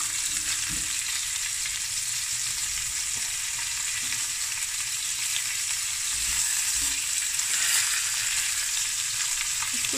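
Onion and carrot sizzle steadily in a hot pan, a constant bright frying hiss with a few soft stirring bumps, close and even throughout with no talking.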